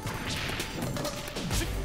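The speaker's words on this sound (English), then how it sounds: "My random force smashes go insane." A forward smash attack connects in Super Smash Bros, a loud, dense crash of impact and whooshing effects filling the whole moment over busy game audio.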